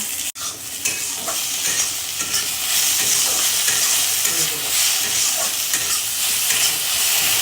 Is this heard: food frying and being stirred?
yes